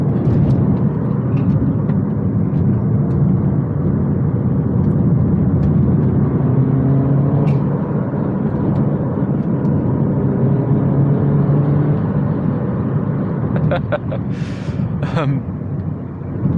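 A stock R56 Mini Cooper S drives along a winding country road, its engine and road noise a loud, steady drone throughout, with a few brief high chirps near the end.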